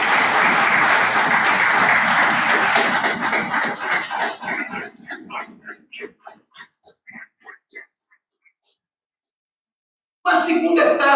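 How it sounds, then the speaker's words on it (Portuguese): A church congregation applauds loudly during a service, a dense roar of clapping that breaks up into scattered, fading claps and falls silent before a voice returns near the end. "Vamos aplaudir o Senhor Jesus bem forte."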